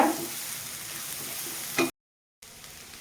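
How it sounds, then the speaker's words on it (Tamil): Crushed ginger, garlic and green chilli fry in a pan with a soft, even hiss and a faint scrape near the start. The sizzle cuts out for a moment, then returns more quietly. "கொஞ்சம் நேரம் இதை ஃப்ரை பண்ணணுங்க"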